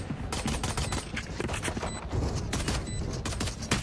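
Rapid bursts of automatic gunfire from the Valorant video game during an esports match, dense repeated shots layered over a busy game soundscape, loud and continuous across the moment.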